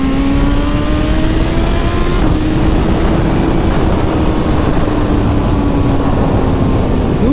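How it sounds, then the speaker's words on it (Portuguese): A BMW S1000 motorcycle engine revs up steadily and close by, its pitch rising and holding in a continuous loud drone with no talking. "Vamos acelerar um pouco aqui pra testar a moto"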